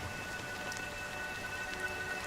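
Rain falls continuously in the video game Honkai Star Rail, a moderate, even patter with scattered individual drops and no voices.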